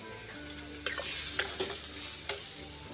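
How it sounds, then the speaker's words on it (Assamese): Soybean paste fries in hot oil, a close, steady sizzle with bursts of spitting crackle and a few sharp scrapes of a spoon stirring in the pan, with no talking over it. "এইখিনি মই এতিয়া তেলত দি দিম। দি মই এইখিনি ভাজি ল'ম।"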